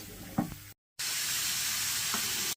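Onion cooking in a pan for shepherd's pie, a continuous close sizzle and hiss with a brief stir, cut by a short gap of silence before the frying noise resumes steadily.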